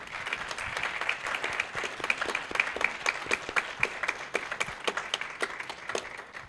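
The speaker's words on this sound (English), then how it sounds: "Let's give our debaters a round of applause." An evening lecture audience applauds a pair of debaters at a constitution and civility lecture series, a steady patter of many hands clapping, moderately close and tapering slightly toward the end.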